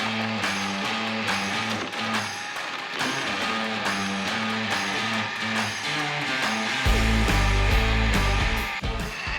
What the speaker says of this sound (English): now back to the churn. It's an old machine.